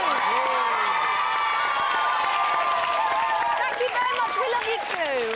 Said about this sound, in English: Can we have a big round of applause, please?